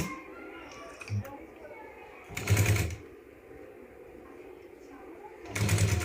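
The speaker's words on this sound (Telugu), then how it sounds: "ఇక్కడ మధ్యలో నుంచి కుట్టు వేసుకుంటూ" A sewing machine stitching a fabric face mask, heard as two short whirring runs over quiet room tone with a brief click between them.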